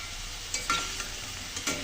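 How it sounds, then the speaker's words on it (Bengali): Potatoes frying in a pan to a reddish golden colour give a steady, soft sizzle, with a few brief clinks of stirring breaking through. "আলুগুলো কিন্তু আমি একদম দেখুন কত সুন্দর লাল লাল করে ভেজে নিয়েছি।"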